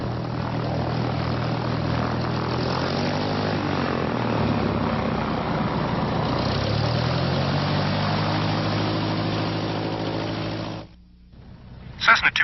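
A Cessna propeller plane's engine drones steadily and close while taxiing from the General Aviation ramp at Grand Island, the pitch wavering slightly before the sound cuts off abruptly near the end, leaving brief faint noises.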